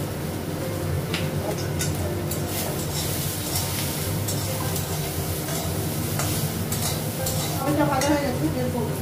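Vegetables frying in hot oil in a pan on a gas stove with salt and turmeric, a steady sizzle under repeated scraping stirs of a spatula, close and fairly loud throughout.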